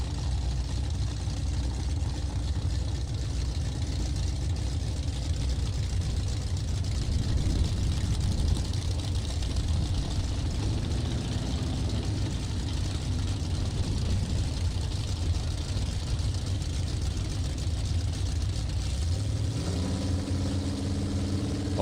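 Drag racing cars, a Ford Fusion and a Valiant, idling at the starting line at Luskville Dragway, a steady loud low engine rumble throughout, with revs rising near the end.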